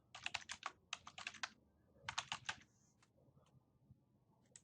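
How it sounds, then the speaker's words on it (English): Quick bursts of keystrokes on a computer keyboard as a street address is typed into a real estate listing map search, two close clusters of clicks followed by a few scattered taps, quiet and alone. "So I want to go ahead and type in an address."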